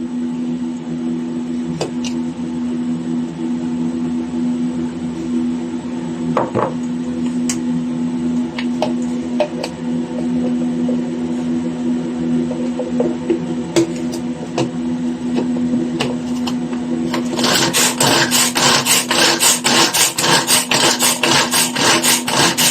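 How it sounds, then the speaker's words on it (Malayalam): Bird's eye chillies, coconut and garlic are crushed together by hand. Faint rubbing and scattered taps sit over a steady background hum, then loud, rapid, rhythmic grinding pounds take over near the end. "ആദ്യം തന്നെ നമുക്ക് ഇത് നന്നായിട്ടൊന്ന് ചതച്ചെടുക്കണം അതാ കാന്താരി മുളക് തേങ്ങ വെളുത്തുള്ളി"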